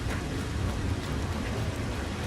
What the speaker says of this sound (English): It's because it's raining.